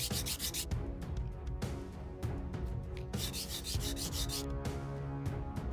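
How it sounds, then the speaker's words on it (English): A resin charm's smooth finish is sanded by hand in quick repeated rubbing strokes, a close scratchy rasp that pulses in a steady rhythm throughout with no talking. "First, let's sand the smooth finish so that it has a better grip while doming with UV resin."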